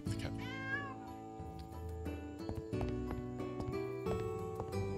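A cat in the video game Travellers Rest gives a short, rising meow near the start, set against looping background music and light game sound effects.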